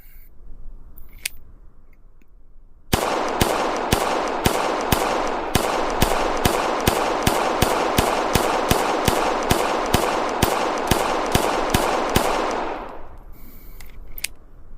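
A red-dot pistol fires a long, fast string of about two dozen sharp shots at an even, rapid rhythm, loud and close, cutting out after a dozen seconds of steady firing.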